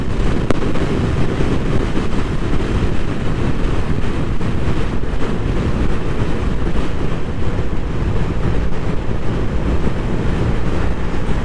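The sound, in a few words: Vespa GTS 300 scooter riding at speed on country road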